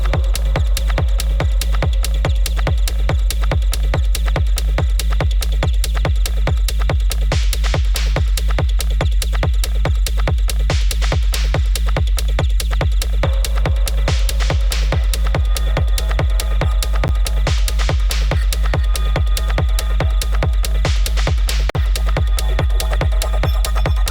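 Dark, groovy techno built from retro sound-effect samples plays loud and continuous, with a steady pounding kick under layered textures and periodic swells for the full stretch.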